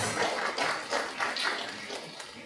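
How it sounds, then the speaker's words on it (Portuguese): A church crowd gives a dense, hissing round of applause for its volunteers, loud and continuous with slight swells before easing off toward the end. "Palmas a vocês, todos vocês, nossos voluntários."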